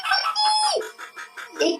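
Chicken clucking and squawking agitatedly in a quick series of harsh, close calls, loud and uneven, heard alone.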